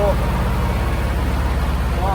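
Six-cylinder truck engine driving a eucalyptus bark grinder, a steady close low idle-like drone with regular firing pulses throughout, loud and continuous.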